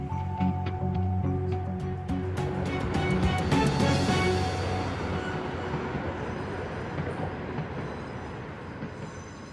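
A train rolls over newly laid track at King's Cross station, steady rumbling and clattering with bright metallic wheel squeal rising in the middle, loud and close, then easing into a continuous roll.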